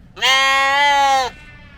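A single loud goat bleat, a drawn-out nasal wavering cry lasting about a second, close by against a quiet outdoor background.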